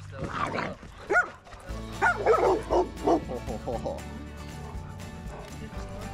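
A small older female dog yaps and yips in a home, several short sharp barks and whimpers mixed with people talking nearby over a steady low hum.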